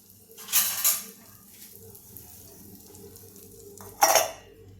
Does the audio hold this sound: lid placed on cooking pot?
yes